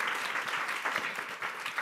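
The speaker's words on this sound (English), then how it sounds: "give another round of applause to all the 10 finalists" An audience at a women's conference claps for the ten pitch competition finalists, a short, steady round of applause at moderate distance.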